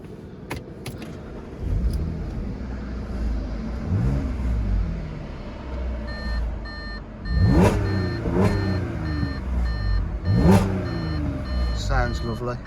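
An Audi S5 3.0 TFSI V6 petrol engine cranks and catches, revs up a couple of times, then settles into a steady idle, with some clinking near the start.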